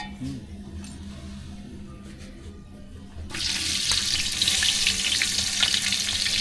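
Cinnamon and cardamom sizzle in hot oil for chicken biryani, a steady frying hiss that jumps sharply louder partway through and stays loud, with faint clinks of utensils.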